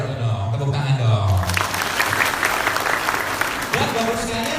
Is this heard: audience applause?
yes